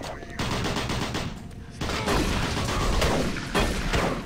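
Doom 3 BFG Edition gunfire rattles in rapid, continuous bursts, loud and close throughout, with a brief dip before the shooting resumes even more intensely.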